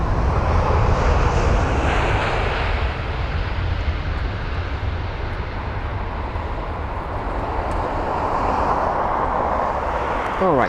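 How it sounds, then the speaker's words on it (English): Uzbekistan Airlines Airbus A321neo jet arriving at London Heathrow from Tashkent, a steady loud broadband engine roar sustained throughout, with a faint voice partly under it. "It's Uzbekistan Airlines and their A321neo. This is going to be registered as Uniform Kilo 32103, and it's the arrival from Tashkent."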